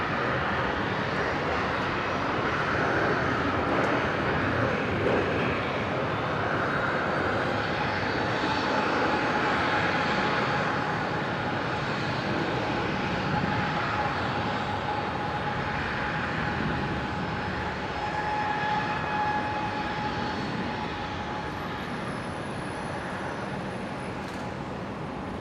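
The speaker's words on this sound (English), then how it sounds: "Here it is. Qantas 1935 heading down to Adelaide." Qantas flight 1935 to Adelaide departs Brisbane with a sustained, loud jet engine roar that holds for the full stretch and eases slightly toward the end, with no voices.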